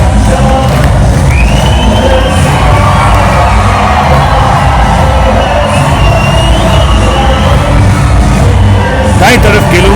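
A large crowd of about 25,000 spectators roars and cheers at the Atari-Wagha border ceremony, sustained and dense throughout, with an officer's amplified voice and shouting mixed into the din.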